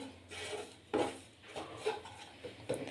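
Grated coconut roasting in ghee in a pan for a modak filling, with a spoon scraping and clinking against the metal in short bursts of stirring, fairly quiet.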